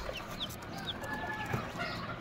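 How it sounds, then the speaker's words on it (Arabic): Month-old Polish chicks with gray-blue feathers and black-and-white crests cluck and peep close by, with several short chirps and thin calls over a continuous background hum. "ديت كتاكيت بولش او كتاكيت بدوزة ما بتسموها"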